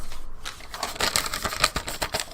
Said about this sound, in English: If you can hear that, me flapping paper around.